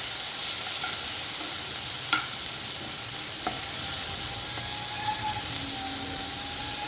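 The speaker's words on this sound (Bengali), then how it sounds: "এবার এটা দিয়ে ভালো করে আলুর সঙ্গে মিশিয়ে নিচ্ছি।" Chopped onion being stirred into potatoes frying in a pan for an Indian-style deem copi curry, a steady close sizzle with occasional soft scrapes of the spoon, no voices.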